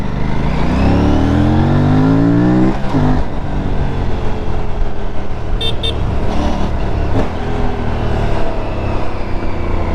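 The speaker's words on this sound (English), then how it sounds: "That exhaust sound is good." An Aprilia RS457 motorcycle's exhaust revs and climbs through rising engine tones, pausing briefly as gears shift, then pulls on again, loud and close from the rider's position.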